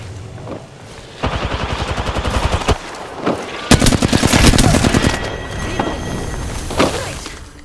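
Rapid automatic fire from a Flatline rifle in the video game Apex Legends, loud and close, in long, dense bursts broken by short pauses and mixed with sharper crack-like shots.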